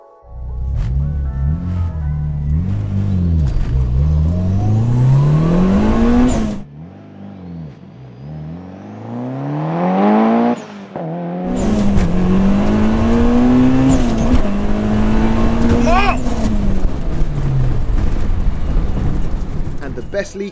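A 500HP Mitsubishi Lancer Evo 7 launching on a 0-60 run, engine roaring loudly and rising in pitch through several gear changes, each shift a brief dip before climbing again, with a short lull and then another hard pull.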